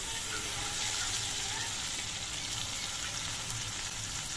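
Potatoes sizzle in hot oil with turmeric powder, chili paste and cumin paste, a dense, even frying hiss that stays close and constant throughout with no talk.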